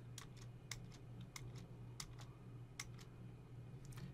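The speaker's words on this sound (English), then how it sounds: "I'll hit backspace several times." A computer keyboard's backspace key is tapped repeatedly, giving a string of light, close, irregularly spaced clicks over a faint steady hum, no talk.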